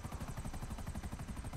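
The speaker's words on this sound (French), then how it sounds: "c'est un des hélicoptères le plus rapide" A fast, rocket-armed attack helicopter flies in GTA 5 Online, its rotor chop beating in a steady, rapid rhythm with a droning engine hum for the whole stretch.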